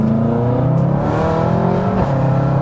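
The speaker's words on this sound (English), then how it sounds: "Just when they get up in the revs, they're just they're seriously quick cars." A powerful BMW M5 engine revs loudly and continuously, its note rising and wavering close by, with a brief dip and surge near the end.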